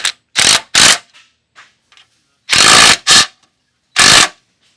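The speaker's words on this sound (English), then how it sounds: "you can tighten it all the way up using a 13mm socket" Ratchet socket wrench with a 13mm socket tightening M8 lock nuts on a Can-Am Defender HD11 hood rack mount: short loud bursts of rapid clicking, two quick runs, a pause, then two more and a final burst, close up.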